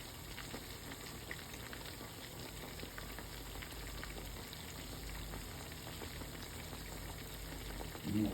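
Farm raised catfish fries steadily in hot oil in a country kitchen, a dense continuous sizzle with fine crackles and pops, close and even throughout, briefly louder near the end.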